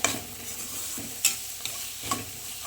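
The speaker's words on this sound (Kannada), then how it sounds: "ಈಗ ಇದು ಚೆನ್ನಾಗಿ ಫ್ರೈ ಆಗಿದೆ" Beaten rice (poha) being fried in ghee and stirred with a spoon in a pan: a soft, steady sizzle with a few sharp scraping clicks of the spoon, close and quiet with no talking.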